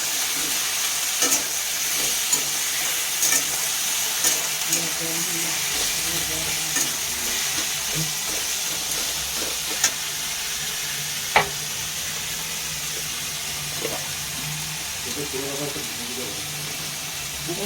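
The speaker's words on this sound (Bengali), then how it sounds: "এটাকে ভালো করে নাড়া হচ্ছে।" Food frying in a pan is stirred continuously, a constant sizzling hiss with frequent scraping and clinking of the spoon, and faint voices underneath.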